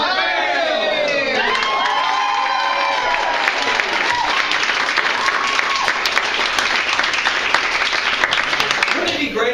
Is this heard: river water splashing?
no